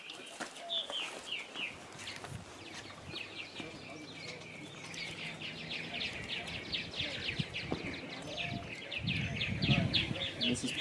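Several birds chirp and call in bursts, with high trills growing denser toward the end, while a person talks nearby as the birds are held for a blood sample from the wing vein during field work in Texas.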